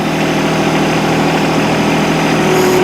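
An old tractor engine runs steadily at close range, a continuous loud rumble with no pauses while it pushes loose dirt.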